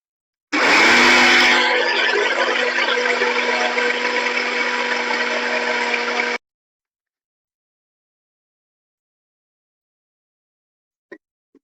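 A mixer grinder pulverises green gram (narippayaru) into fine powder in one loud, continuous whirring burst of about six seconds, then stops abruptly, leaving silence and a couple of faint clicks.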